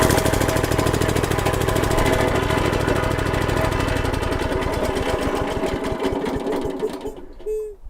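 SuperHandy 7HP mini wood chipper shredder with a small gas engine running loud and close, a fast, rattling mechanical chatter that holds steady, then slows and cuts out near the end.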